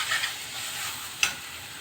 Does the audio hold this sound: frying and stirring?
yes